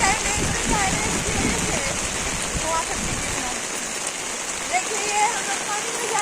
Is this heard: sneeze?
no